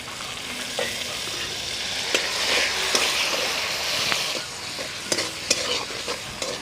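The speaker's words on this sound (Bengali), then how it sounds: "আমি একটা টমেটো কুচি দিয়ে দিলাম, অল্প একটু চিনি দেব" Chopped tomato and a little sugar fry with masala in a pan, a steady close sizzle broken by scattered clicks and scrapes of stirring, with no voices.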